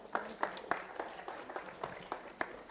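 A small audience at a university innovation event gives sparse applause, with a handful of distinct claps spaced irregularly and heard faintly at a distance.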